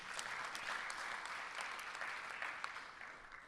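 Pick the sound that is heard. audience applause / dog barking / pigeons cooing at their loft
audience applause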